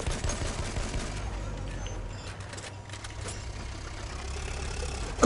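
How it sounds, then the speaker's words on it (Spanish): Enemy machine gun fire in a team-based shooter game rattles continuously in the distance beneath a steady engine-like rumble, dense and unbroken for the whole stretch. "¡Ametralladora enemiga!"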